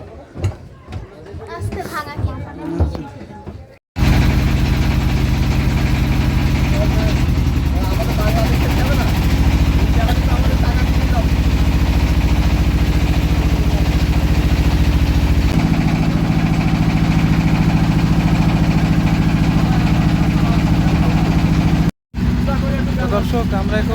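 A tour boat's engine drones loud and steady on Kaptai Lake, a constant mid-pitched rumble that carries on almost unbroken after a brief stretch of talk at the start.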